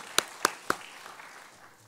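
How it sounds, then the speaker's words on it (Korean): A church congregation at a Wednesday worship service gives applause to God: three sharp, evenly spaced claps in unison, close and distinct, then a fading room tail. "하나님께 영광의 박수 드리겠습니다"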